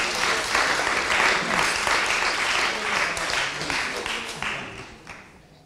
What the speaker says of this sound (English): could we have a round of applause for all questioners